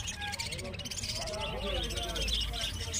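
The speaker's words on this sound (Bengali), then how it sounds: "খুব কালারফুল বদ্রি পাখি আছে।" Budgerigars chirp and twitter in quick, overlapping calls at the Garia bird market in Kolkata, with a steady crowd murmur and voices underneath.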